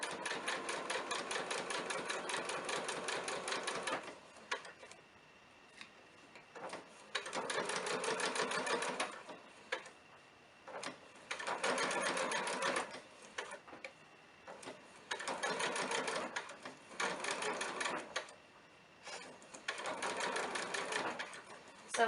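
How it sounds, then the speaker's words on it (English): Bursts of fast, even mechanical whirring come from a sewing machine stitching a centered zipper, running in repeated stretches broken by short pauses, with a person talking between runs. "crank your needle down into your fabric, pick up your presser foot, pivot, and then keep sewing"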